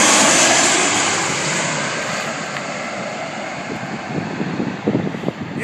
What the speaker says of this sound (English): there's an airplane coming down right now